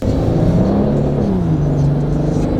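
A modified car's engine pulls steadily as the accelerator is pressed lightly, a loud, close, continuous rumble with a tone that climbs and then settles lower, with no talk over it.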